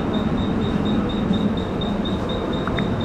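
A crowded morning local train rolls along at steady speed, a loud continuous rumble of wheels on track with a faint repeating metallic whine and a couple of brief clanks near the end.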